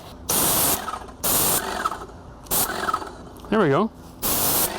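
A paint spray gun at higher pressure fires in five bursts of loud, broadband hiss about a second apart, each sharply cut off, with someone speaking briefly between the bursts.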